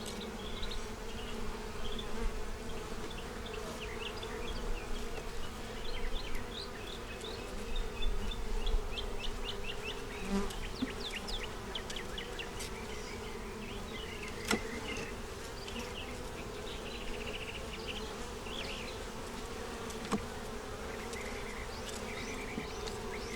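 Honeybees drone continuously inside an open hive among frames of nectar and pollen, a close, steady buzz with individual bees whining past and occasional faint clicks.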